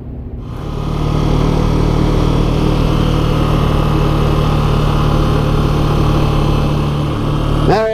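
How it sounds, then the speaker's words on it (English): A Can-Am Outlander 700 ATV engine starts up and drones loudly and steadily while riding on a cold road, close to the microphone, with a brief rev near the end. "I'll be riding all by myself on my ATV."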